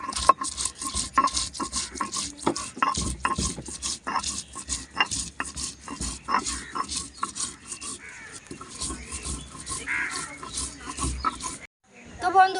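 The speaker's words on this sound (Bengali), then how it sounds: "তো এবার আমি শিলনোড়ায় বেটে নেব" Mustard seeds ground with a little water on a Bengali shil-nora stone slab and pestle, a close, repeated rasping and rubbing scrape with knocks, steady strokes running for several seconds before stopping near the end.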